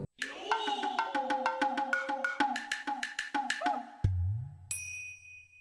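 A quirky Nintendo GameCube startup jingle, triggered by holding Z on four controllers, runs along in quick plucky notes, ending with a low rumble and a high, clean chime tone.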